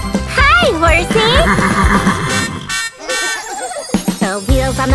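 A cartoon horse gives a loud, wavering neigh and whinny over children's farm-song music, close and bright, with a voice speaking around it.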